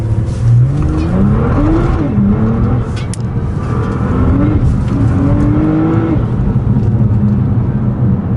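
A Nissan R35 GT-R Recaro Edition, four-wheel drive with rear bias, drives in slow traffic in wet weather. Its engine drones loud and steady from inside the cabin, rising and falling as it revs through the gears.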